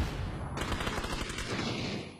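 Rapid gunfire from the battle royale game PUBG during a competitive match, a dense sustained burst of overlapping automatic shots filling the whole stretch at steady loudness.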